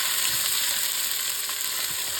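Sliced onions sauté in hot oil in a pan for chicken curry, giving a steady, close, crackling sizzle with faint stirring clinks and no talking.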